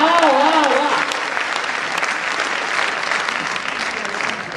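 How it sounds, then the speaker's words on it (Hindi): Loud applause from a comedy show audience, a dense wash of clapping throughout, with a voice briefly carrying over it at the start before the clapping continues alone. "और आपकी तालियां उठेंगी"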